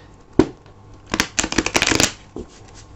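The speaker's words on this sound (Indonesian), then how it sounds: "Aku akan shuffle dulu kartunya ya" Tarot cards being shuffled by hand: a sharp single riffle, then a dense run of quick, crisp riffling bursts, close and fairly loud, ending in one last soft flutter.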